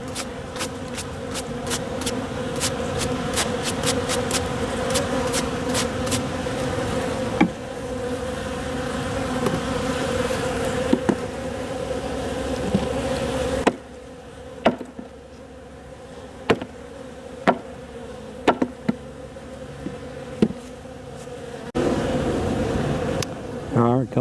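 Honeybees drone in a small, starving winter cluster during a late-December hive inspection, a steady close buzz with individual bees zipping past, then quieter stretches broken by sharp clicks and knocks of frame handling.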